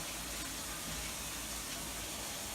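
Water gushes steadily from a tap inside an RV trailer under construction, a loud, dense, unbroken rush that fills the whole short stretch with no voices.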